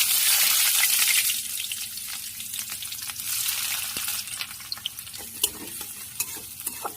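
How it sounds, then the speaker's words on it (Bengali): Chopped onions fry in hot oil in a wok, a loud broadband sizzle at first that settles into a steadier crackle, with scattered sharp clicks and taps from stirring near the end. "তেল গরম হওয়ার পরে পেঁয়াজগুলো দিয়ে দিব।"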